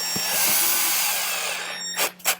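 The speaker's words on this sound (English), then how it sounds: "we're going to use these self-tapping screws to hold it in" A power driver whirs steadily as it drives a self-tapping screw into plastic on a motorcycle fairing, close and loud, stopping with two short final bursts of the motor.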